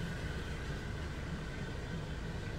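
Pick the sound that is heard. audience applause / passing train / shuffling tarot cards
passing train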